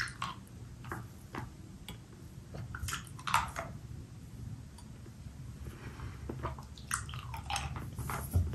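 Fruit chew candy, four flavors of Mamba Tropics, chewed close to the mic, with soft wet squishes and sticky clicks in an uneven rhythm.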